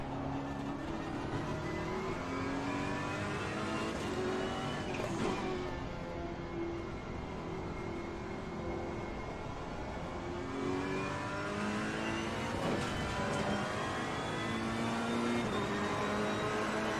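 A Ferrari 488 GT3 race car in a racing game laps the Hungaroring circuit. Its engine note climbs repeatedly through the gears with shifts and steady high-revving drone, loud and continuous, without talking.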